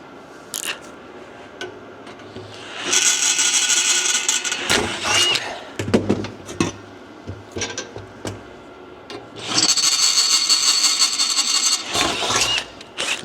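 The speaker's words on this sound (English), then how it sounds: "let's drill that a little bit bigger." A power drill enlarging a hole in a Cupra Ateca exhaust pipe, coming in two sustained loud whining bursts with scraping, knocking handling noises between them.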